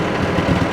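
A 1964 Ford 4000 gas farm tractor engine runs steadily with the PTO engaged, a close, loud, low rumbling drone over the whole brief moment.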